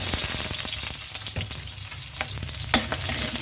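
Onions sautéing in hot oil for pansit, a loud, close, continuous sizzle broken by the scrape and click of stirring throughout.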